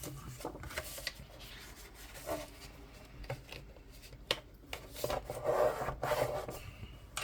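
Paper for a tea-themed shaker album is clipped and mitered by hand, giving soft close scraping, rubbing and snipping sounds in irregular bursts, fairly quiet with no talking.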